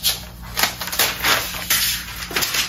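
Packaging of a MacBook Air M2 box being opened like an envelope, with close, loud crinkling, tearing and rustling of paper and card in a rapid uneven series of scrapes and crackles.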